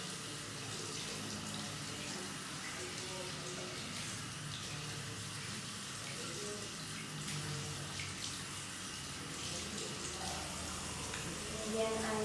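Tap water runs steadily into a sink during handwashing, a constant broadband splashing hiss at moderate level with no clear pauses.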